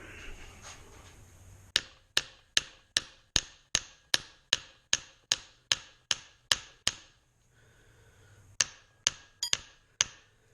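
A small hammer taps on a Jaguar front subframe part during a rebuild, with a steady run of about fifteen evenly spaced sharp metallic strikes, a pause, then a few more close, clear taps.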